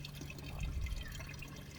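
Collected rainwater is poured from a watering can onto plants in an in-home greenhouse, a soft, faint trickle and splash heard alone.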